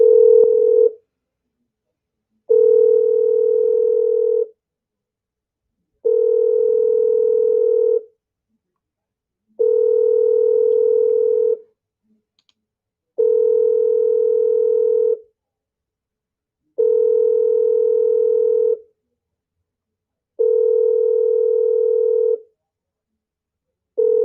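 Telephone ringback tone while calling a scammer's number, a steady single-pitched beep repeating in even bursts of about two seconds with short silences between, loud and alone.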